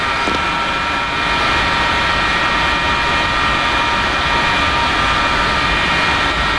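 Jet engine noise from an F-4E in the DCS flight simulator during startup of the left engine: a steady, loud, continuous whine and roar with a high tonal hum, sustained throughout with no talking.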